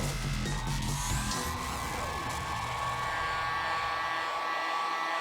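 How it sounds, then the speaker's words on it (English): A heat gun blows hot air across the creased leather toe of a 1985 Air Jordan 1 Chicago OG sneaker during restoration, a steady loud whooshing roar that runs continuously and alone throughout. "with a heat gun, never leave it in the same area for too long"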